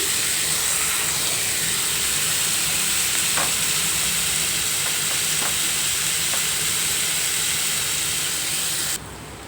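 Onions fry loudly in a pan, a dense continuous sizzle with occasional spatula scrapes and stirring clicks, close and unbroken with no talk.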